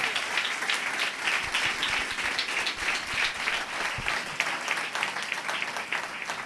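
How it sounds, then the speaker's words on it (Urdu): Loud applause at a church service, with a congregation clapping in a dense, steady roar that holds evenly for several seconds without talk. "زوردار تالیاں بجائیں گے خداوند کے جلال کے لیے."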